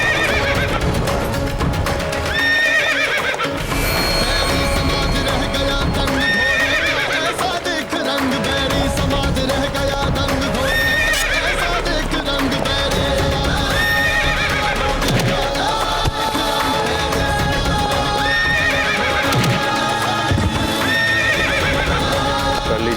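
A horse whinnies repeatedly, with loud, drawn-out neighs over steady clip-clopping hooves, set against a dense music-and-effects backdrop in a historical drama about Maharana Pratap.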